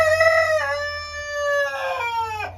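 A Maran rooster crows once, a loud, close harmonic call rising and then trailing off at the end, alone, with a low hum of background noise beneath.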